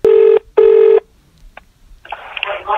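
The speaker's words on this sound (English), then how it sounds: "I've just picked up this phone call" Telephone at a school office ringing in two long electronic bursts, loud and close, followed by a brief silence and then faint line noise and muffled voices.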